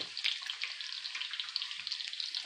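Battered zucchini fries frying in hot oil, a steady crackling sizzle with dense bubbling pops throughout, close and moderately loud, no voices.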